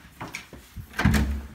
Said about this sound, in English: This is an exterior door right here. And then I'm going to come into